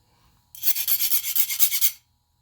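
A file rasps back and forth across a CO2 car axle in about a dozen quick, even strokes, close and bright, each stroke a hiss-like scrape, following a short quiet lead-in.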